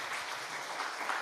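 A church congregation applauds during a Sunday afternoon Thanksgiving service, dense steady clapping filling a large hall, fairly quiet overall with no distinct voices.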